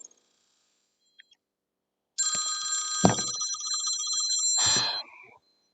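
A telephone rings once, loud and close, with a brief clatter partway through, after a few seconds of near silence.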